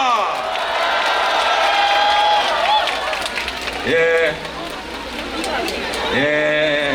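A crowd at an outdoor campaign rally for presidential candidate Lee Jae-myung in Suncheon applauds and cheers, with loud amplified voices and a melodic announcement chime ringing over the dense crowd noise.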